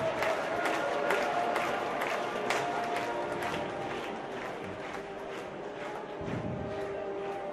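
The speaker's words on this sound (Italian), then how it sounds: "L'applauso di tutti." Crowd applause at an Italian Serie B basketball game, Eurobasket Roma against Poderosa Montegranaro, with a busy arena clatter of clapping that fades gradually over several seconds, and a low rumble rising briefly near the end.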